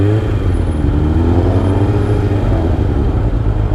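A cold 2003 Kawasaki ZR7S motorcycle idles a little low while it warms up, a steady, loud engine rumble close by with no clear revs.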